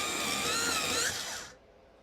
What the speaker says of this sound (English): sorry for the noise, but this is the sharpener.